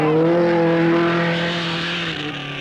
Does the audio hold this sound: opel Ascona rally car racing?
yes